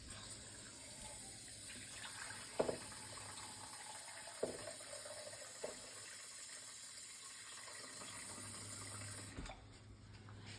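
Tap water runs steadily into a pan for pickling lids and rings, a continuous close rushing stream with a few faint clinks, cutting off near the end.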